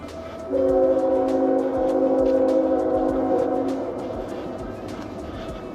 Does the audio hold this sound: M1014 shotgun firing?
no